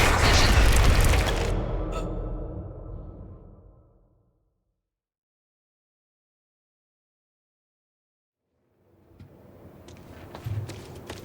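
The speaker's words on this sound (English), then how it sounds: "HQ, we just heard an explosion near the harvesting perimeter." A deep, booming explosion in the video game Quantum Break rolls out loud and low, then decays into several seconds of silence before faint rumbling and clatter return.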